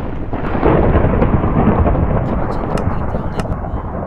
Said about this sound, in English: Oh, thunder is with rain.